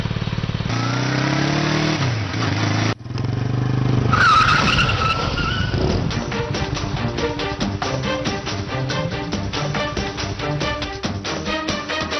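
A vehicle skids sharply in a Tamil TV drama scene: a burst of tyre squeal and engine noise that soon gives way to loud, rhythmic background music.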